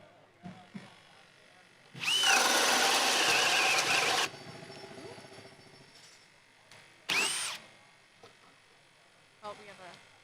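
A high-torque Bosch right angle drill with a 2 9/16-inch self-feed bit roars loudly for about two seconds while boring, then brief bursts of the motor follow, with people talking between them.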